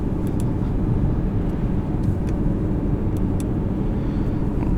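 A 2018 Audi R8 being driven, its engine a steady, loud, low droning rumble mixed with road and wind noise, holding an even level throughout with no voices.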